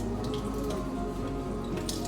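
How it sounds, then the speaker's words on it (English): Canned pinto beans slide into a pot with wet squishing and dripping sounds, close and steady over a low background hum. "Pour in my pinto beans"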